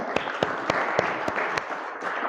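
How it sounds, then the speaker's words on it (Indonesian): A small group at a Ramadan pesantren gathering claps together, rhythmic evenly spaced claps for a couple of seconds, close and moderately loud. "Tepuk tangan buat kita semua."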